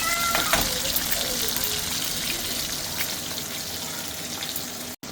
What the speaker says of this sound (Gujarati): તો જો કેટલી મસ્ત ફ્રાય થઈ ગઈ છે